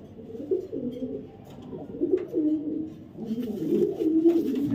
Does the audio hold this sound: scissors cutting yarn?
no